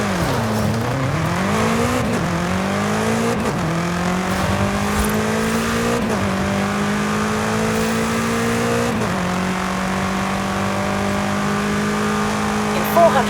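Engine of a Volkswagen Golf R race car in the Forza Horizon 5 video game, revving up and shifting through gears in steady climbing sweeps, loud and continuous, with a brief tire squeal and game sounds layered in.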